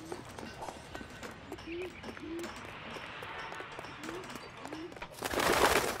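Birds in the L.A. Noire video game coo and call in short hooting phrases over a faint ambient bed, with a hiss of noise swelling at the end.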